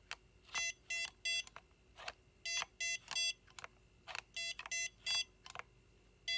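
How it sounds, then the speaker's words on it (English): A BetaFPV Cetus X radio controller sounds groups of three short, high electronic beeps during setup, repeating in a quick rhythm over a faint hum, no talking. "Hit that setup button again. Triple beeps."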